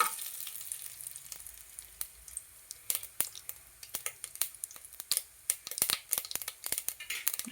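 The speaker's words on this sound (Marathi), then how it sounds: "तर आपण यामध्ये आता जिरे आणि मोहरी टाकत आहोत." Cumin and mustard seeds pop and crackle in hot oil, starting sparse and growing into rapid, sharp spitting bursts close by.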